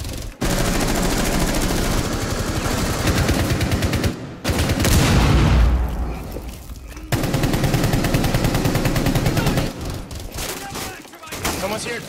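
Rapid bursts of gunfire in the video game Rainbow Six Siege crackle loud and close, broken by brief silent gaps, with a voice shouting over parts of it.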